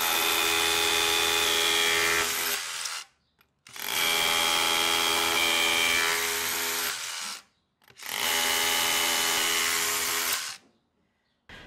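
A DeWalt DCH172B ATOMIC 20V cordless rotary hammer on a 2 Ah battery, drilling with a half-inch Diager booster bit, runs in three loud, close bursts of about three seconds each, separated by short silences.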